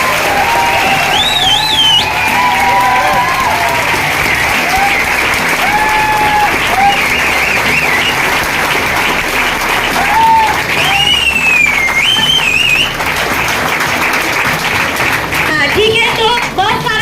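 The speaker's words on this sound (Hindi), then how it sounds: "तो ये ताली प्रोडक्ट के लिए बजी है" Loud, sustained audience applause for a speaker on stage at a business planning meeting, with continuous clapping under high warbling whistles and some crowd voices.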